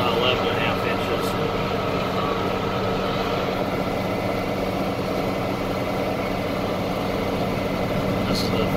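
A loud, steady diesel engine of a 4450 tractor with a 534 blade, blading a road, rumbles continuously at a constant pitch, close by, with no break.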